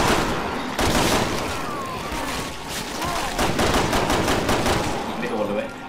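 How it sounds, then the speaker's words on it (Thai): Rapid bursts of gunfire in Resident Evil 6, loud repeated shots in fast clusters across the clip, with a voice speaking over parts of it. "ยิงไม่โดนเลยยิงเร็วเกินไป"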